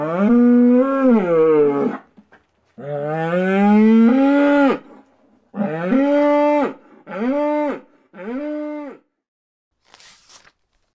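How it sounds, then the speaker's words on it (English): A cow moos loudly several times, starting with two long, drawn-out moos and then three shorter ones, close by with nothing else around. "Cow mooing."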